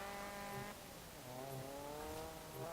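A 1994 Honda Prelude Si engine in the video game Forza Horizon 4 revs and drones steadily, pitch rising and falling with throttle changes, fairly quiet and with no talking.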